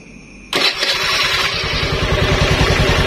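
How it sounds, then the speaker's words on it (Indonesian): A carbureted Honda Beat motorcycle engine starts with a sudden burst and settles straight into a steady, loud, close idle with a rapid even putter. "Sekarang kita hidupkan motor"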